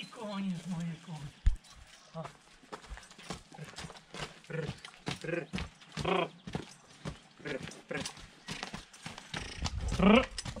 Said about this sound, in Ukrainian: Ой, коні ж мої коні.